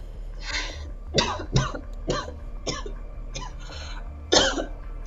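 Repeated harsh coughs and throat-clearing come in a series of short bursts, fairly close, with a low steady hum underneath.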